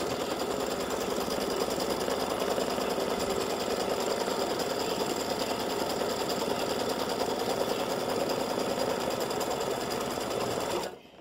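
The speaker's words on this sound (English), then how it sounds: "stitch is going to be a tack down to tack this fabric in place before I start stitching" An embroidery machine sewing a tack-down stitch on fabric, a fast, even mechanical rattle of needle strokes that runs continuously and close up, then stops abruptly at the end.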